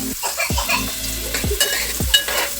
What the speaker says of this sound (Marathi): आता आपण कांदा थोडा परतवून घेऊया